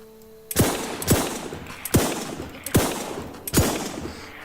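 Five sharp gunshots ring out one after another at uneven intervals, each a loud close crack followed by a short decaying echo, with no talking between them.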